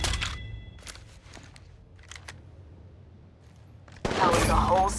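Gunfire in the mobile shooter Apex Legends Mobile: a few bursts and shots early on, then a loud, dense burst of firing near the end, mixed with game effects and callout voices.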